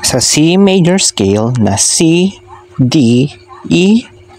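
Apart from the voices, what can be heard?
No everyday noises stand out.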